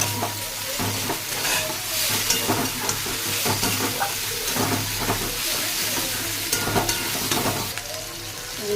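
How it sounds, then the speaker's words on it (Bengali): Ginger-garlic paste frying in a pan for a spicy fish curry, with a steady sizzle broken by repeated scraping stirs close by. "দেখো আদা রসুনটা ভাজা ভাজা হয়ে গেছে, এবার টমেটো দেবো।"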